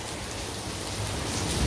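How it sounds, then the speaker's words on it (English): Rain falling steadily outdoors, a dense, even hiss of drops on surfaces that grows a little heavier toward the end, with no talking over it. "It's raining."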